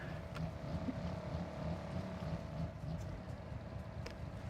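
A car sits idling and revving in the Forza Horizon game, out of sight nearby. It gives a steady low engine drone with a whining harmonic tone, and wind-like noise runs through it the whole time.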